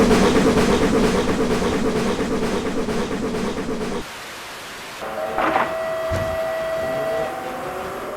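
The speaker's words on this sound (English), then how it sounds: "there is at least one thing I like about 75078, the chuff sounds" Steam locomotive 75078 in Train Simulator, a heavy, dense rushing roar that runs steadily and close, then drops off to quieter hissing with a few faint metallic tones and clanks.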